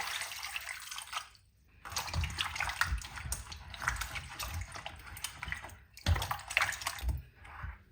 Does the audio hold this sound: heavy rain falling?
no